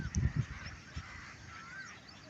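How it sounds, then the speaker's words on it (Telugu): A flock of large birds flying overhead gives faint, distant goose-like honks, a few scattered calls clustered at the start and end over a soft, steady background. "అన్ని పక్షులే పెద్ద పెద్ద పక్షులు అనమాట"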